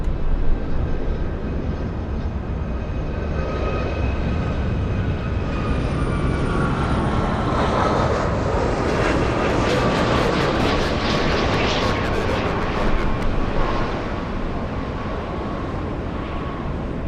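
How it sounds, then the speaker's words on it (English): A United Airlines airliner from Honolulu arrives at LAX, its jet engines a sustained loud roar that swells and eases gradually while the plane passes, with no talk over it. "Let's go for the United Airlines flight from Honolulu."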